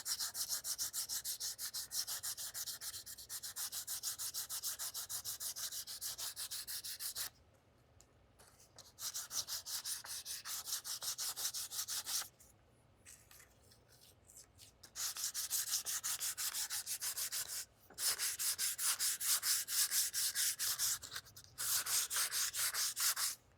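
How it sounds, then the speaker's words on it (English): Hand sanding a gun stock with 220 grit sandpaper: rapid, rhythmic back-and-forth rasping strokes in close bursts of several seconds, separated by short quiet pauses, fairly faint overall and with no voices. "And this is just same 220 grit sandpaper."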